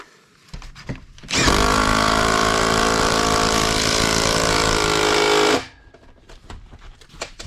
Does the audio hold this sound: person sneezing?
no